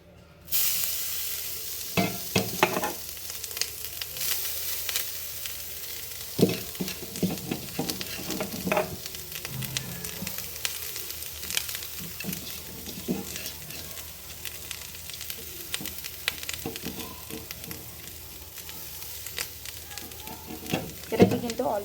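Coconut stirred and fried in a hot kadai, a steady sizzle broken by repeated scraping and clattering strokes of a spatula over about twenty seconds.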